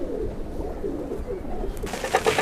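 Madrasi kalpare pigeons coo in a low, continuous murmur close by, with brighter chirps and rustling rising near the end.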